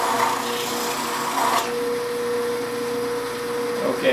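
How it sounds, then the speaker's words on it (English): Woodturning tool held on a rest and drawn back and forth across a spinning bench grinding wheel, giving a steady, close, rasping hiss that runs unbroken with no speech. "put the tool on the platform, just back and forth across the wheel until you have it all"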